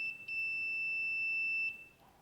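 A bench DC power supply beeping on a short circuit gives a single sustained electronic tone, clean and steady for over a second before cutting off, in a quiet room with no talking.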